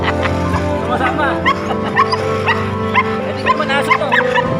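Stray dog whimpering and yipping up close, a run of high, wavering whines and short yips that rise and fall over several seconds.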